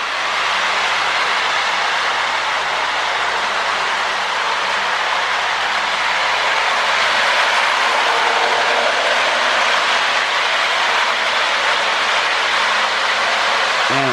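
A Lionel model train with a 607 passenger car runs fast on its track, giving a steady, loud whirring rumble with rhythmic rail clicks and faint squeals, close by and continuous.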